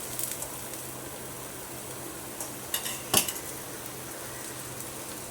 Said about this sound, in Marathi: आता हे थालीपीठ टपलं घालून घ्यायचं अशा पद्धतीनं काढायचं आहे त्याच्यानंतर तेल सोडून घ्यायचं थोडंसं